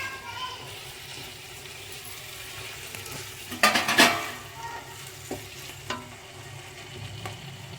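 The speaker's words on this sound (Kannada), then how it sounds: "ಎಲ್ಲ ಹಾಕಿ ಈ ರೀತಿ ಮಿಕ್ಸ್ ಮಾಡ್ಕೋಬೇಕು." Biryani ingredients for a wedding-style shaadi biryani are stirred and mixed in a pot, a steady soft scraping with a louder burst of spoon clatter midway and a few later knocks; no one talks.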